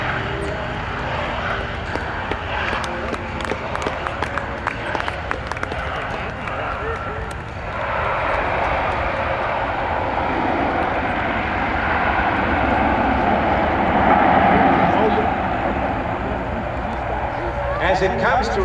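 A Luftwaffe Airbus A400M Atlas turboprop flies and lands at an air show. Its broad engine roar is steady and loud, swelling and shifting as it touches down, while an announcer talks over it.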